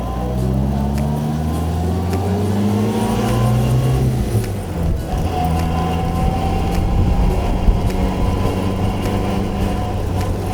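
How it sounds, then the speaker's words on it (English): A 1948 MG TC drives along with its engine droning loudly and the transmission and differential whining beneath, the pitch climbing through gear changes. "You hear the transmission, you hear the engine, you hear the differential, kind of everything makes whining noises and things."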